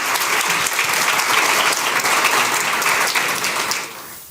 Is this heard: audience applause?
yes